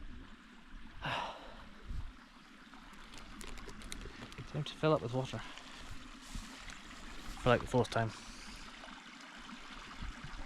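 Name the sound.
filling up with water from a stream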